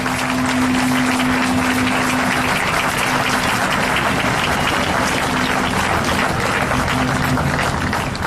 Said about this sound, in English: Can we very quickly get a round of applause for the amazing anthems, the clergy, and the scouts?